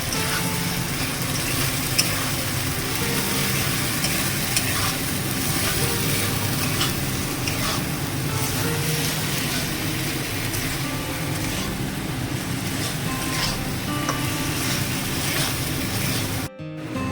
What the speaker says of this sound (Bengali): এবার কষিয়ে নিতে হবে।